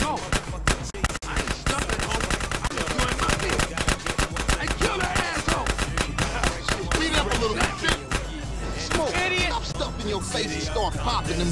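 Rapid gunfire in the game GTA San Andreas, a dense, loud and continuous stream of shots that barely pauses, with talking voices mixed in beneath it.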